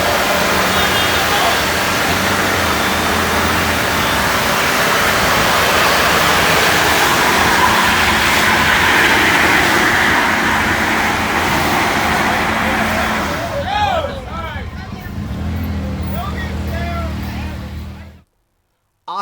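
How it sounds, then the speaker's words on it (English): A Chevy Duramax pickup roars through a sustained burnout, a loud steady engine and tire-spinning rush holding for most of the stretch before tapering and cutting out, with voices audible near the end. "He does a Burnout in a Chevy Duramax, so let me run that clip."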